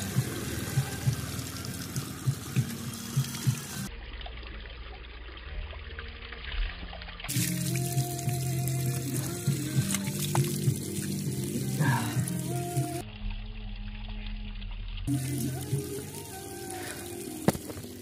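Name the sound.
drinking water running outdoors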